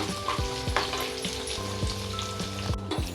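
Dry red chillies fry in hot oil in a pan for Telugu pulihora, giving a steady close sizzle with repeated scraping stirs and light clinks throughout and no talking.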